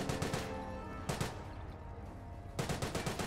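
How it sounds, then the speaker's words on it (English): Bren carrier machine gun in Company of Heroes firing three rapid bursts, each about half a second, fairly faint with short gaps of battlefield ambience between them, no talk. "Bren carrier will gun it down. One more burst."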